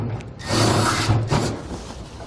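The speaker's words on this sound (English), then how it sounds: "we'll take a small drill bit and make a pilot hole." A small drill bit whirs and grinds into the metal bed of a 2018 Ram 3500 truck, drilling a pilot hole in a short burst of about two seconds, loud and close, with no talking.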